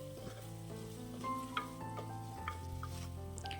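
Chopped tomatoes being sautéed for a Kerala tomato moru curry sizzle softly in a pan, broken up by scraping stirs and light clinks of a spoon against the metal, close and fairly quiet with no voices.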